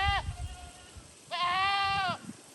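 Sheep bleating on a farm field, two harmonic bleats, a short one at the start and a longer, louder wavering call about a second later, close by over faint background noise.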